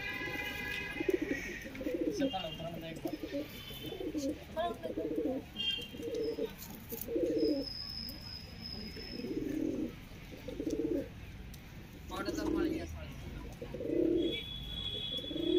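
Pigeons cooing close by in repeated low, throaty phrases at a steady pace, with faint chirps and voices speaking in the background.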